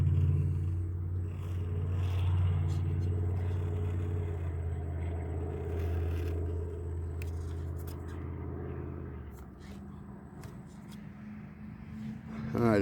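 A Redcat Gen8 RC crawler drives onto a trailer in a backyard, with a steady electric motor whine and low rumble that eases and shifts as it climbs, alongside faint background noise.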